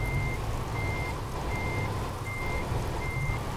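A truck's reversing alarm in Euro Truck Simulator 2 beeps five times at an even pace, each tone clear and regular over a constant low engine rumble.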